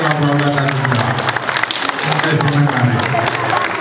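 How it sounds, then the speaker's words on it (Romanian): An audience applauds steadily at a Romanian folk music event, a dense wash of clapping running throughout with a voice speaking over it. "vă dă cu aplaud așa"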